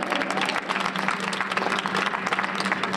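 Audience applause at a youth summit, a dense, continuous burst of many hands clapping at close range for the full stretch, with no voices standing out above it.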